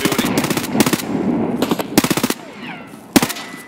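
Video game gunfire in Escape From Tarkov comes in several loud, rapid automatic bursts separated by short gaps, with a single sharp shot near the end.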